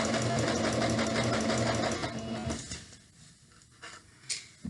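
Domestic sewing machine stitching a French seam on a cotton pillowcase, running steadily and loudly for about two and a half seconds before stopping, then quiet rustling of fabric and a few faint handling taps.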